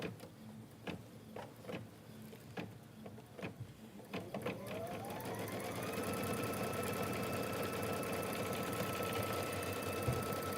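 An embroidery machine tacks down quilt batting, starting with a few slow thumps and then settling into a steady, rapid mechanical stitching hum that grows louder and continues to the end.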